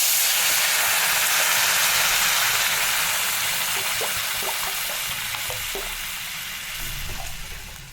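Water is poured into a pan of fried dalia with green chilli, turmeric, salt and grated ginger, setting off a loud rush of steamy hiss that slowly fades into quieter bubbling sizzle, no voices.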